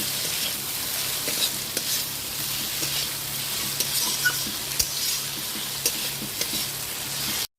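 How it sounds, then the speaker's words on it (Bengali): Salted okra fries in a hot spiced tempering, giving a constant loud sizzle broken by scrapes and taps of a spoon stirring in the pan before it cuts off abruptly. "লবণটা দেওয়ার পর আবারও ভালো করে নেড়ে চেড়ে নিচ্ছি 2-4 সেকেন্ড"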